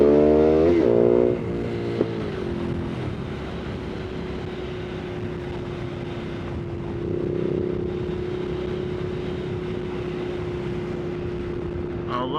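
A motorcycle idles and rides slowly at about five miles an hour, captured on a Zoom H1 recorder, its exhaust a steady low drone after a brief revving burst at the start, with wind rumble throughout.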